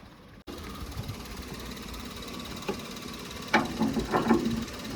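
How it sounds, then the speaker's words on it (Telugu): A 2015 Maruti Suzuki Celerio VXI engine idles steadily with a low, even hum, heard after a short click at the start, with a few louder knocks and rattles near the end. "ఇంజన్ అయితే ఇగ్నిషన్ ఆన్ చేసి స్టార్ట్ చేస్తున్నా"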